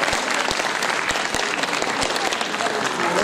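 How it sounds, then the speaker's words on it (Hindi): Audience applause at a Hindi literary and music award ceremony, steady dense clapping from a seated crowd filling the whole stretch, fairly loud and continuous. "एक बार तालियां बज जाएं बच्ची के लिए।"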